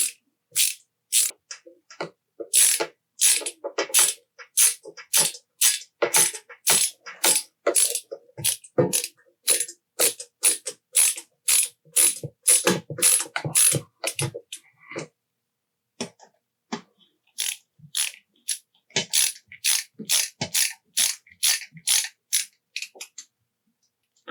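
A screwdriver drives the Z-axis motor screws on a Prusa Core One 3D printer, giving rapid clicking ratchet-like ticks in steady bursts, close and alone, with a short pause midway.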